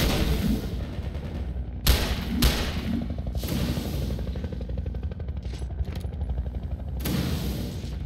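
Gunfire from the video game Entropy: Zero 2, a few sharp shots standing out over a dense, rumbling game soundscape, moderately loud and somewhat distant.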